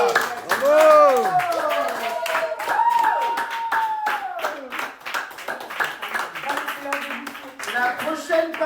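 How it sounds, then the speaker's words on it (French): A small group of people claps for a painter, with scattered clapping running under loud, animated talk and exclamations throughout. "on applaudit le peintre"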